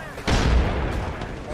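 A grenade explodes during a competitive shooter match, a single sudden boom with a sharp onset that rings out and decays slowly under continuing gameplay noise while players talk.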